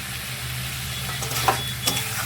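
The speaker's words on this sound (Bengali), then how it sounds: "আদা দিয়ে ভালো করে আর একটু নাড়বো" Grated ginger sizzles in hot oil while it is stirred into chicken kosha, a steady soft frying hiss with a couple of faint scraping knocks from the spoon and no voices.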